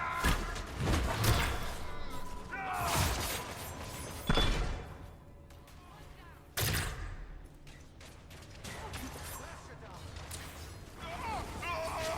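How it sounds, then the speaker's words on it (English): Explosions in the fantasy video game Dragon Age: Inquisition, several heavy booming blasts and rumbling debris at irregular intervals amid combat noise and mechanical clatter. "Well, that certainly looks like a good spot for an explosion."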